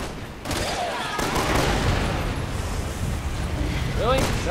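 A big explosion in Resident Evil 6 sets off a sustained, loud crackling roar of blasts and debris that starts abruptly and rumbles on, with a few sharper game sounds layered over it.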